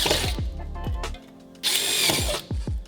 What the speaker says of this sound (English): If you just use your Phillips head screwdriver bit and just turn it on and push, you're gonna end up punching little holes in the bottom of these cans.